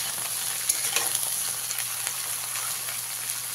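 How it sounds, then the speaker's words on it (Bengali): Ridge gourd with slit green chillies fries in a pan while being mixed, a soft, even sizzle with faint stirring taps, fairly quiet and steady, with no voices. "এর মধ্যে আমি দিয়ে দেবো কয়েকটা চেরা কাঁচা লঙ্কা, দিয়ে আবারও একবার মিশিয়ে দেবো"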